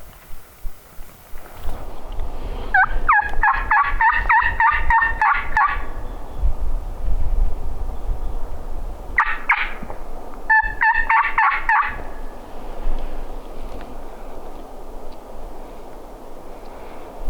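A wild turkey gobbler on public land in South Dakota gobbles in two rattling bursts, one long and one shorter pair, fairly loud over rustling outdoor background noise, with no talking.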